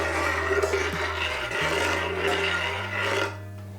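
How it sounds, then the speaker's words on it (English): Cheese is grated on a metal grater into creamy salmon pasta cooking over medium-high heat. It makes a steady, close rasping scrape over a low hum from the stove. "I'm also gonna grate in the cheese right now."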